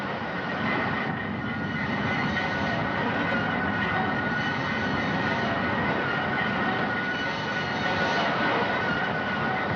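A DC-18 diving craft is launched with a loud, steady mechanical roar, a dense, even rumble that holds unchanged from start to finish with no voices over it.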